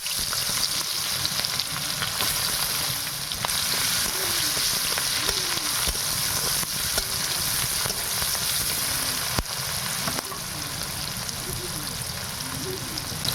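Onions fry in a little hot oil with nigella seeds for a fish curry, a loud, continuous sizzle broken by occasional stirring scrapes.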